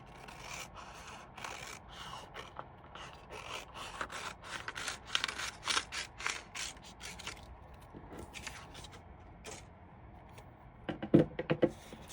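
Scissors cut paper for a layered-petal paper flower, a steady run of close, soft rasping snips and scrapes that fades briefly and ends with a few sharper clicks.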